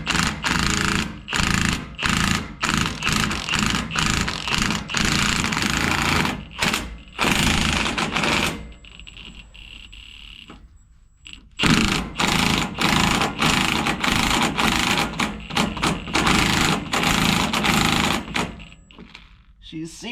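An impact wrench seats a new wheel stud on a Ford F250 Super Duty at a higher torque setting, with loud repeated hammering bursts broken by short pauses, a quieter gap midway, and voices talking between bursts.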